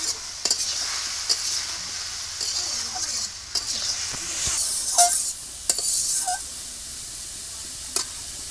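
Vegetables sizzling in a pan with salt and turmeric, a spatula stirring them in intermittent scrapes and clinks over a continuous fry, close and fairly loud.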